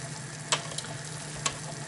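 Spinach pasta stirred in a pan, with soft sizzling and two sharp scraping clinks of the utensil against the pan, quiet and close.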